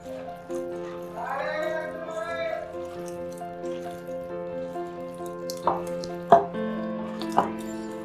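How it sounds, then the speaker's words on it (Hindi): Water is poured into whole wheat flour batter for gulgule, a steady, gentle trickle with a few clinks from the bowl near the end, over a faint sustained background tone. "पहले 1/2 कप पानी डाल देते हैं"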